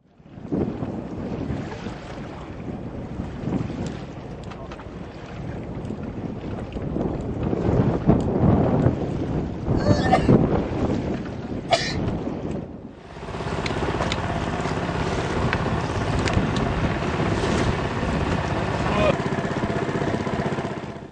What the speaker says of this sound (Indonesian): Dengan menumpang perahu kayu berbobot 1 ton dengan mesin tempel berkekuatan 6 PK